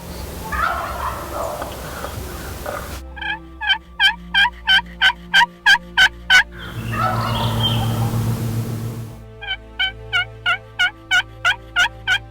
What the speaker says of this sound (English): We had turkeys gobbling around us